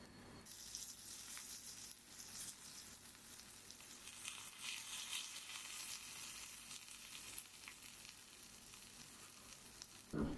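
Za'atar thyme French toast, a milk-soaked bread, fries in a pan with a steady bright sizzle that holds for about ten seconds, with no talking.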